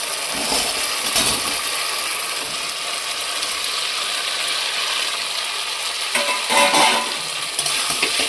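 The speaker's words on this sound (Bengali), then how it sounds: "এবার আলু আর সয়াবিন একসাথে ভালো করে কষিয়ে নেব" Potatoes and soybean chunks frying in oil with cooked-down spices, giving a steady close sizzle and hiss throughout, with a few scraping stirs and no talk.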